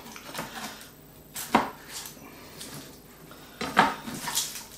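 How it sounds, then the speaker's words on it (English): Garlic being crushed or cut on a kitchen board while making slow-cooked Greek lamb kleftiko, two sharp knocks standing out over faint kitchen clatter. "Also crush your garlic, or cut it in half."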